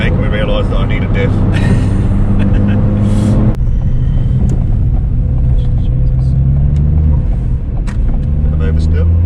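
A tuned Ford Fiesta ST, TRS Stage 2 at 250bhp, roars loud and close under hard driving on a road, with sharp crackling exhaust pops and bangs in the first few seconds over a steady engine drone.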